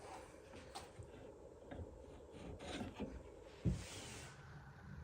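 Scraping and rasping as glue squeeze-out is cleaned off the inside of a wooden cajon, steady and close, with a sharper knock near the end.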